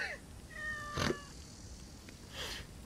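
Soft, fairly faint cat meows in the game Assassin's Creed Origins, a short cry early on and another near the end over a quiet background.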